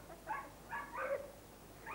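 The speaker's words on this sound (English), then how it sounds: "Oh, that's Dimity and Smooger, my dog." A pet dog gives a few short, yipping barks at moderate distance, spaced irregularly with quiet gaps between them and no talking.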